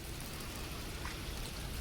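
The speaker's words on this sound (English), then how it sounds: "We're getting a little bit of rain." Light rain falling at the tail end of an April storm, a steady soft hiss of drops on surfaces, faint and continuous with no voices.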